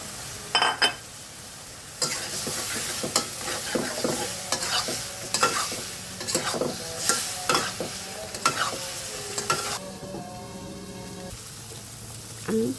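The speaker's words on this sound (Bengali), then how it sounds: "তারপরে আমি সেই ভেজে রাখা চিংড়িগুলো এটার মধ্যে দিয়ে দেব।" Prawns for a malai curry fry in a pan with ginger-garlic paste and spices, a steady sizzle broken by repeated scraping stirs and the clink of a spoon against the pan, close and alone.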